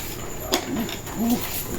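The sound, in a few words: bird unboxed after long-distance shipping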